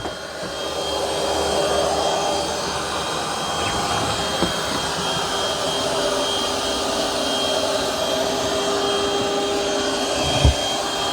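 Roborock Curv 2 robot vacuum in particle boost mode with mopping stopped, roaring at a steady, loud whooshing drone from nearby, with a couple of faint bumps.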